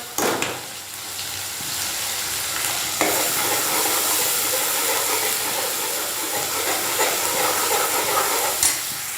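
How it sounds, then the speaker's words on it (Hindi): Masala with chopped onion and asafoetida frying in a pan for Amritsari chole, a steady close sizzle and hiss with occasional stirring scrapes, continuing alone throughout. "ये मेरा मसाला भूनता रहेगा और मैं आपको बताती रहूँगी"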